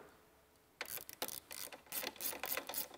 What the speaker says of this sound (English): before you go doing them up tight with a ratchet